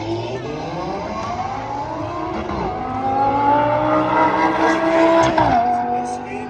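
A twin-turbo Lamborghini accelerating hard through the gears, rising engine tones climbing and dropping at a shift, then climbing louder and closer, with a brief tire squeal.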